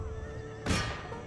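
A cavalry horse whinnies once in the video game Empire Total War, a loud, brief neigh rising over a steady din of battle ambience.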